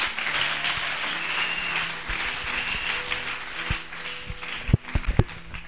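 A church congregation applauds and claps in praise of the Lord, a steady broad wash of clapping and acclaim that swells into a few sharper, louder bursts near the end.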